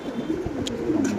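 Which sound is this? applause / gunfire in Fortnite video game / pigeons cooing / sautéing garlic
pigeons cooing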